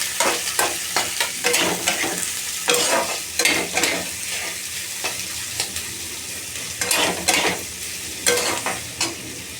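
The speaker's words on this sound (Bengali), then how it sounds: "একটু ভালো করে ভাজবো।" Chopped onion and garlic fry in a pan for begun varta, sizzling steadily while a spoon scrapes and knocks in a quick, repeated stirring rhythm close by.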